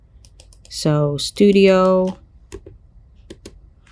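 A computer keyboard clacks with a few sharp, separate keystrokes while someone types text into Adobe Photoshop, and someone talks briefly at close range over part of it.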